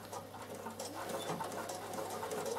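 A sewing machine runs a wide satin stitch in a steady, close mechanical whir with fast rhythmic needle ticking that holds an even pace from start to end.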